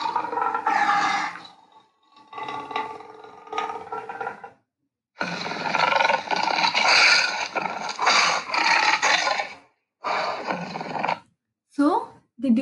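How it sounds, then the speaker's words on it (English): A lion roars in several long, loud bursts separated by short silences, each a deep, rough, sustained call. "did you all hear that roar of a lion, children?"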